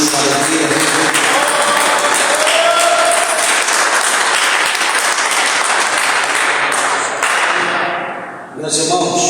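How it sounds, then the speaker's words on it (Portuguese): Sustained, loud applause from a church congregation at an evening service, dense clapping with some sharp cracks and faint voices mixed in, dipping and fading near the end. "Quem pode dar uma salva de palmas para Jesus, com alegria?"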